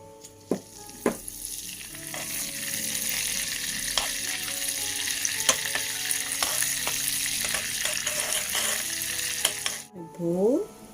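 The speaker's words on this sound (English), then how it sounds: "now for the margarine and the oil, I need to melt it first before we start doing the dough." Margarine and oil melting in a pan, a steady close sizzle with scattered clicks and scrapes, and a short scraping sweep near the end.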